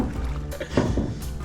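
Paddle strokes and water splashes from a canoe on a wilderness trip in Nova Scotia's Tobeatic area, a couple of close sloshing pulls against a background of water noise.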